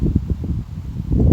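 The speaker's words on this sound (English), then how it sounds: "Apologies for any wind" Outdoor wind buffets the microphone in low, rumbling gusts, a short burst of steady blustery noise with no one speaking.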